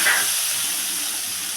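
A spice paste of cumin seeds, green chillies, salt and turmeric hits a hot pan for a teasel gourd and coconut dish, giving a loud, continuous, close sizzle that fades slightly.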